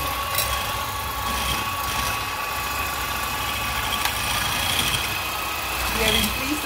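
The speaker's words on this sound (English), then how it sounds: "now we'll whisk it on a medium" An electric whisk mixes cookie batter at medium speed, giving a continuous mid-pitched motor drone with a faint rattle throughout, close and steady, without any talking.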